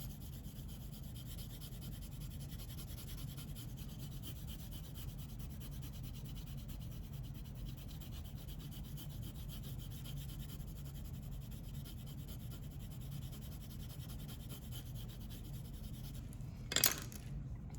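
A green colored pencil strokes steadily across paper, making a quiet, continuous scratchy rubbing with no pauses and one brief click near the end.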